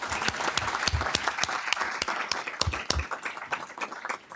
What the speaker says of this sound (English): I want a round of applause